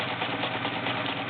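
Vintage all-metal Kenmore model 1802 sewing machine with a 1.2 amp motor running a zigzag stitch, a steady rapid mechanical whirring and chatter, close and continuous.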